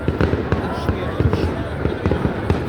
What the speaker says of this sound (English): today we're doing a fireworks show.